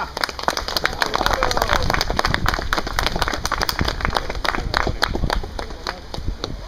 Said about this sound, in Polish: Brawa kochani, brawa!